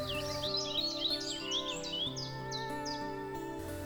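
Several birds sing in a preserved wetland, with bright overlapping chirps and whistled phrases over steady background calls, close and clear throughout.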